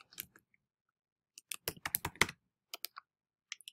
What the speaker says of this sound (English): Let's go ahead and type our name for our class.